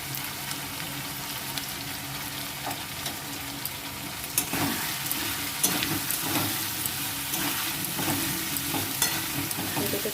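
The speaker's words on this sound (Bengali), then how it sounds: "এটাকে ভালো করে একটু কষে নেবো, আদা রসুনটাকে আর লঙ্কাটাকে ভালো করে একটুখানি কষে নিয়ে" Ginger, garlic and chili sautéing in a pan, a constant sizzle broken by scraping stirs and occasional clatters of a spatula against the pan, close and fairly loud.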